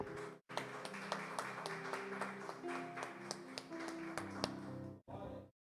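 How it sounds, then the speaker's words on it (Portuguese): A church congregation claps in praise during a Christian service, producing a busy run of sharp, fairly close hand claps with a few brief pauses, some of them falling into a loose rhythm. "E um aplauso ao Senhor."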